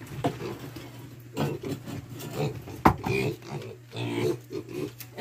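Farm pigs crowd a pen at feeding time, drinking whey with a steady mix of grunts, snorts and slurping, and bodies jostle and rub against wood, all close up and continuous.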